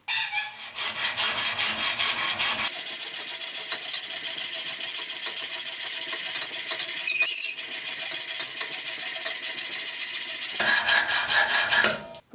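A hacksaw cuts through a metal bar with rapid back-and-forth rasping strokes, loud and close, running continuously for most of the stretch and stopping briefly near the start and end.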